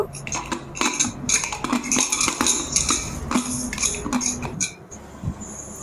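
A metal pressure cooker being fitted and set onto a gas stove while bottle gourd cooks, giving a steady run of close, bright metallic clinks and clatters like utensils and pots knocking together.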